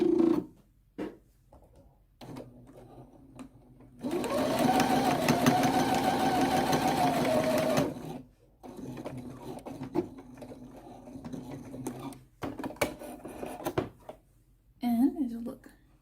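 A sewing machine stitches a folded skirt waistband in one steady, loud run of about four seconds, set between quiet stretches with brief handling noises and short bursts of talk.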